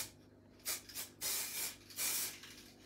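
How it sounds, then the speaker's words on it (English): Quick light bursts of aerosol spray paint hiss onto fabric cushion covers, three or four short close puffs separated by brief pauses, with no talk. "you want to give just a quick light spray"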